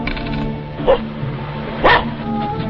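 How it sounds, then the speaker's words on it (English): A dog barks twice in a film scene, two short sharp yaps about a second apart over a steady musical background with no one talking. "Your cur would bark?"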